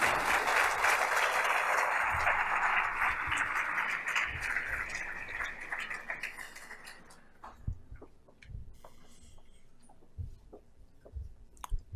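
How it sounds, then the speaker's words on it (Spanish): Audience applause at a CPR symposium, a dense sustained clapping crowd that fades after about seven seconds into scattered, isolated claps. "Les pido un fuerte aplauso"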